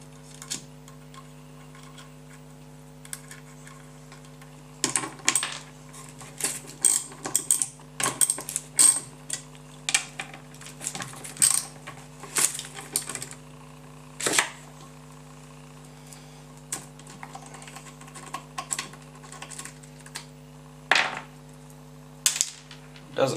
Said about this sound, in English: your next job is to take off all these bolts.